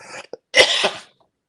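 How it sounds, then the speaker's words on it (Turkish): A single harsh cough, close and abrupt, preceded by a couple of faint breaths, then silence. "gördüğün gibi öksürüyorum"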